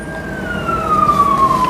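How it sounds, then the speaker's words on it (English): A police siren wails steadily, its tone sliding slowly downward as it passes by or fades away. The siren is loud and continuous over a rumble of road traffic, with no talk heard. "I hear the police sirens"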